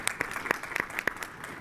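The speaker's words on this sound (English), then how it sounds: "Round of applause." Brief burst of audience applause at a tech conference panel, sparse separate claps spaced irregularly and fairly faint, giving a thin, short-lived clapping sound rather than a full ovation.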